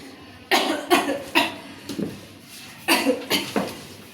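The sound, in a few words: person coughing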